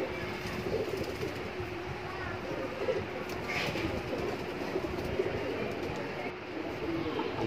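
Large old-breed pigeons, including Phike, Kalchoche, Kalsare and Kaldume lines, coo softly in a loft, their low burbling calls steady under a constant background hiss with faint rumbling nearby.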